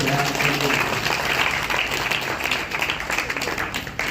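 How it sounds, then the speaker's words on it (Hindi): Loud, continuous audience applause at a Hindu religious gathering, a dense wash of many hands clapping close and steady for the whole stretch. "एक बार जोरदार तालियां"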